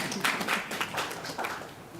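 Scattered clapping from a small audience at a housing authority board meeting, a few uneven hand claps, fairly quiet and brief.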